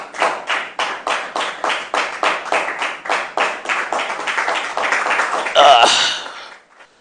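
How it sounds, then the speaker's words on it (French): Rhythmic clapping from a studio audience at a French-language televised religious program, steady beats building into denser applause before stopping abruptly. "Sous vos applaudissements, s'il vous plaît"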